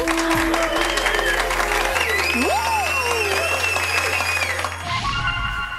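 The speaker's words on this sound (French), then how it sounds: "Tous les employés de la succursale applaudissent à la fin" Restaurant employees applaud together in a steady, even wash of clapping, overlaid by sliding whistle-like tones and a sustained musical drone that shifts near the end.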